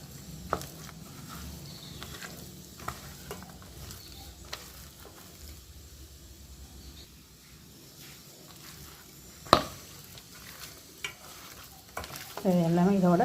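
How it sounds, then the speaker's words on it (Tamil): Chicken being mixed by hand with spice masala: soft, wet squishing and stirring sounds with occasional sharper clicks, fairly quiet and close, and a louder burst near the end. "இது எல்லாமே நல்லா கோட்டாகிற மாதிரி நல்லா பிசைஞ்சுக்குவோம்"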